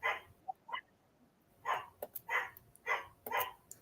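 A puppy barks and yips in short, sharp bursts at irregular intervals, close by but fairly quiet, with no talk over it.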